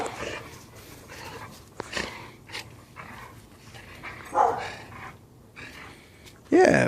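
Two dogs play with a new fetch toy outdoors, giving short yips, whimpers and panting at close range while a person talks and urges them on throughout.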